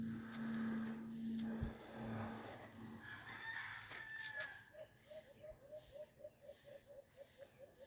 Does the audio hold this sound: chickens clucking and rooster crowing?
yes